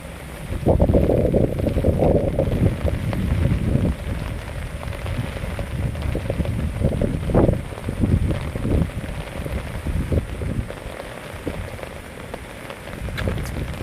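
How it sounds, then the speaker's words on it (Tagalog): Strong typhoon wind buffets and roars against the microphone in heavy continuous gusts, with a rumbling low end and no voices. "Yan na naman po ang hangin."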